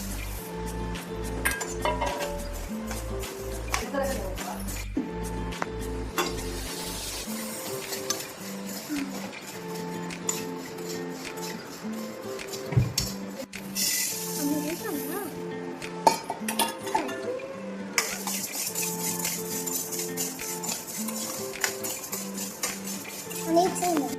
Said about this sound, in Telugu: ఆవాలు, జీలకర్ర, మెంతులు డ్రై రోస్ట్ చేసుకుందాం మనం